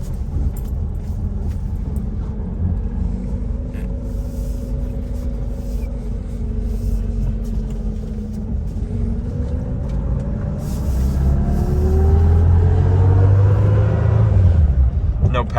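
A 1973 BMW 2002 with a carbureted engine, not yet warmed up, idles with a steady low rumble close by, growing slightly louder and deeper near the end.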